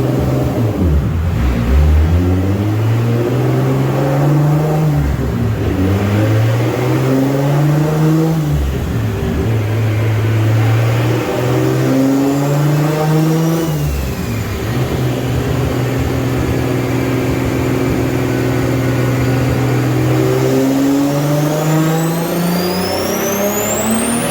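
A turbocharged 2JZ engine swapped into a Nissan 350Z roars through repeated dyno pulls under rising boost, loud and close, its pitch climbing steadily, dropping, then climbing again across several sweeps.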